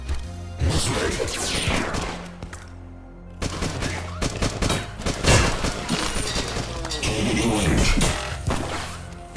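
Rapid gunfire in the shooter Beyond Sunset, with repeated shots, crashes and impacts piling up in dense bursts that drop away briefly near the three-second mark before resuming loud and continuous.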